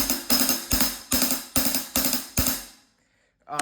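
A 14-inch Classics Custom Extreme Metal hi-hat, played without a ching ring, struck about seven times at an even pace, each hit loud and bright with a short wash, then a brief silence before one more hit.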